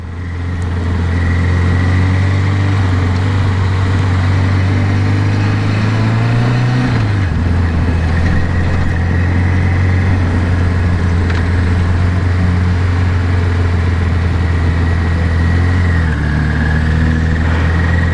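A motorcycle engine runs steadily and loudly close by while a new rider practises handling the bike on a lot, with a continuous low drone that dips in pitch partway through as if shifting.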